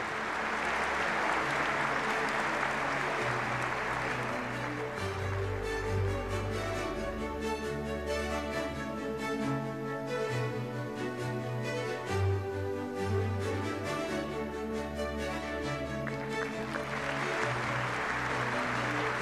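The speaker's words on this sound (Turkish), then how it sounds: "Ödülünü almak üzere kendisini kuvvetli alkışlarınızla sahneye davet ediyoruz." Applause from the audience at a Turkish higher-education opening ceremony as an award recipient is invited to the stage. The clapping is loud and sustained, a dense even roar lasting the whole stretch with a faint background hum.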